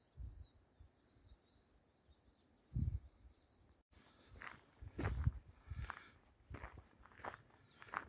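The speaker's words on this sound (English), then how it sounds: "You hear the bird song." Thin, high bird calls chirp faintly in the background while footsteps crunch close by at an uneven pace on a countryside hike near woodland.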